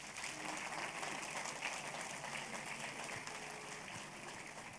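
Sustained applause from a church congregation at a service, a dense, steady wash of clapping that holds through the whole stretch with no voices over it.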